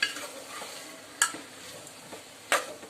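A spoon stirs fried masala through country chicken curry in a pot, with a soft sizzle underneath and two sharp metallic scrapes against the pot; quiet and close, no talking.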